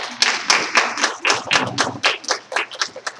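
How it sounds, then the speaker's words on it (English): A small group at a school budget hearing claps in uneven, rapid bursts for a few seconds, close and fairly loud, with no voices. "Let's give them a round of applause."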